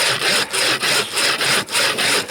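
A saw cuts through a tree trunk in frozen taiga at around minus fifty, giving a close, loud, steady back-and-forth rasp of roughly seven even strokes.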